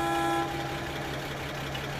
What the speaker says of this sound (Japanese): クラクションもやめて。